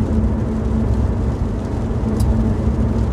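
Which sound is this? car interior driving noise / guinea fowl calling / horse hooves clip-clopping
car interior driving noise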